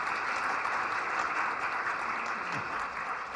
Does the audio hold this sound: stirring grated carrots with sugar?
no